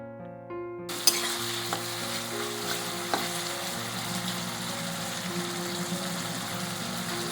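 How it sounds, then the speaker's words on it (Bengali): Prawns frying in a pan with plenty of potato and onion, a steady close hiss and sizzle with occasional stirring clatter, preceded by a brief low tonal hum before the frying begins. "বেশি করে একটু আলু আর পেঁয়াজ দিয়ে আমি চিংড়ি ভাজা করছি"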